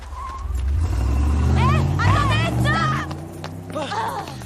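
Tim's green car pulls away nearby, a steady engine hum building and fading over a few seconds while people chatter and exclaim over it.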